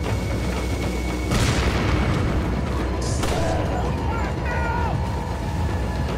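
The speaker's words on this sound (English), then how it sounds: "Explosions can hurt you if you're standing, even if they're behind cover." Deep booming trap explosions in Resident Evil 4, with rumbling tails, a couple of big blasts in quick succession over constant noisy game audio.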